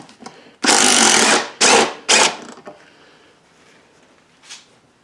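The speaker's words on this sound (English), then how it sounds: "we'll go ahead and remove these bolts." A power tool whirs in three close, loud bursts, one long and two short, while 12 mm bolts are removed from a seat rail during a Miata seat conversion in a Triumph TR-series car, followed by faint clicks.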